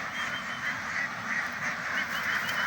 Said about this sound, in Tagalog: Ganyan ang mga itik namin guys.